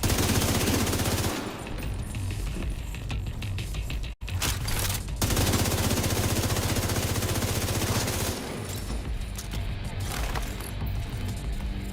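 An automated turret in The Division 2 fires long, dense bursts of rapid gunfire, loud and close, with a brief break partway through before the shooting resumes.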